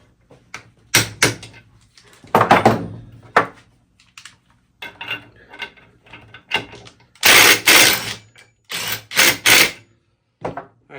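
A Dewalt DCF850 20V brushless impact driver torquing a bolt at 120 foot-pounds, loud close bursts of rapid hammering rattle in short uneven pulls separated by silences, struggling somewhat.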